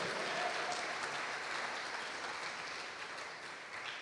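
A church congregation claps for God in a sustained, even round of applause, a dense hiss of many hands that fades slightly toward the end, with no voices over it.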